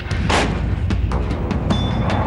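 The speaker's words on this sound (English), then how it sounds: "The artillery duels all along the LOC escalated." Artillery exchanges along a contested military border rumble as a dense, continuous roar, with several sharp, heavy blasts standing out over the sustained booming din.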